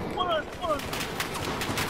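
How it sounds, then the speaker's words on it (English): Heavy gunfire in the video game Battlefield 4: a dense, continuous crackle of overlapping shots behind voices talking, with rapid bursts mixed in and no single clean report. "They're fucking shooting pretty fucking heavy, dude. I hear all those fucking shots."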